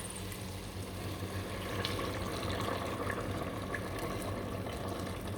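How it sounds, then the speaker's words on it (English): Hot water pours steadily into a tomato stew, a continuous splashing, gurgling rush that stays close and even throughout, with no voices. "Now add the water."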